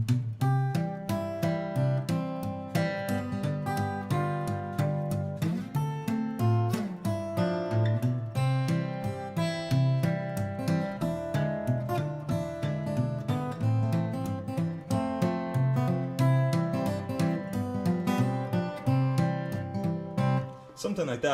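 Fingerstyle acoustic guitar plays the folk tune Freight Train with an alternating bass, a steady stream of clear plucked notes running for about twenty seconds, alone and close.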